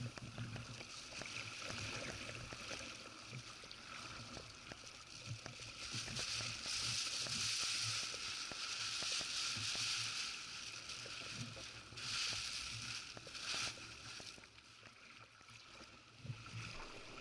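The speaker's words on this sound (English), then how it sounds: "Paddling in between the islands." A kayak paddled through seawater between the Lucey Islands in Dixon Entrance, soft repeated paddle strokes and sloshing water, fairly close but faint, with a steady wash of water and wind around them.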